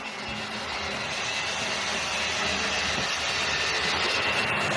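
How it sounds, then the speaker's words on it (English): A 1970s Hornby or Lima GWR King Class model locomotive runs around its track, the motor and mechanism giving a steady, continuous whirring rumble at even loudness throughout, with no talk. "The motor, you can definitely hear the motor and the mechanism."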